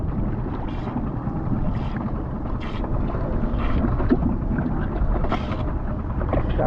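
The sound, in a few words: skiff boat engine idling on the water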